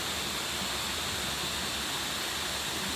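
Waterfall at South Kobble Creek Falls in subtropical rainforest, a constant broad hiss of falling water with no change in level and no talk.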